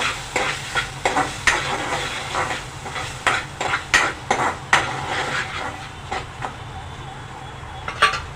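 A spoon stirs suran (elephant foot yam) vegetable masala in a pan, making repeated close scraping and clinking strokes at an uneven rhythm over a low background hum.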